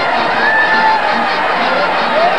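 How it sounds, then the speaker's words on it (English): A large arena crowd at the Huntsman Center doing the wave during a 1995 women's gymnastics meet, a steady roar of cheering and whistles running throughout. "they got the wave going here in the Huntsman Center"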